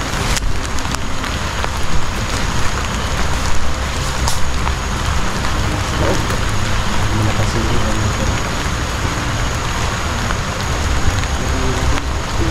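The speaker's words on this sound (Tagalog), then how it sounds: "Hangin nih, nalas kahoy nih. Rock, hangin no. Ulan pa naman no." Heavy rain falls outdoors with gusting wind, a dense, loud and continuous hiss of rain on surfaces that holds steady throughout.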